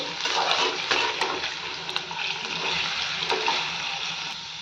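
Potato pieces fry until crisp in a pan for sabudana khichdi, a moderate continuous sizzle with occasional light clicks and scrapes from stirring, heard on its own.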